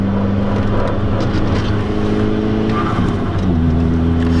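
Audi A3 turbo wagon engine driven hard through a corner with heel-toe downshifting, loud steady drone from inside the car, pitch dipping and then rising again as revs are blipped and the engine pulls back up.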